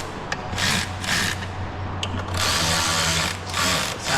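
A fastener on the air strut of a 2017 Mercedes CL550 is tightened with a ratchet or power tool, giving several bursts of whirring and clicking separated by short pauses over a low steady hum.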